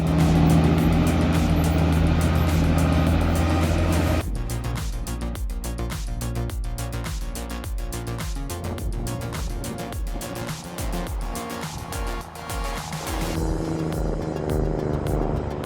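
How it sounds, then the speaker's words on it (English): A Kenworth T659 8x4 logging truck drives loaded with heavy timber. Its engine makes a steady, loud roar that holds through the whole stretch, with a slight drop in level early on. "That Kenworth T659 8x4 is truly the king of the forest."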